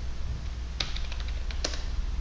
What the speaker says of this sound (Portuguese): pressiono Enter e agora digito a senha de root que eu defini